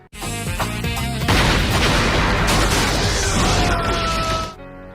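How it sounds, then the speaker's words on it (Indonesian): A bomb hidden in a suitcase explodes in a Bollywood action film scene, a loud dense boom and crashing roar that swells after a second and sustains for several seconds before cutting off. "tiba-tiba bom dalam koper meledak"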